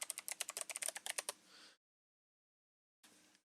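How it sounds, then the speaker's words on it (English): Quick, steady keystrokes on a computer keyboard as a password is entered, about a dozen close, crisp clicks in a burst, then a brief soft rustle, silence, and one last short sound. "type the password in."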